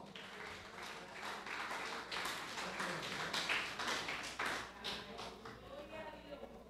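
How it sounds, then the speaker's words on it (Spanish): A church congregation claps in praise during a sermon, giving uneven, loosely rhythmic clapping with distinct hand taps rising and falling over several seconds, moderately loud and fairly close. "Dale un aplauso al Señor."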